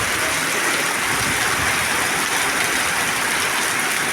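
A steady roar of heavy rain in Bagdana, with water gushing and splashing nearby as a thick, unbroken hiss that stays loud and even from start to finish.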